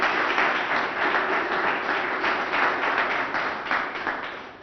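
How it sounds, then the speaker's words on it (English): An outdoor press-conference audience claps together in dense, sustained applause that stays fairly loud and even throughout, with no voices over it. "So let's clap our hands because for this glorious day we have outside."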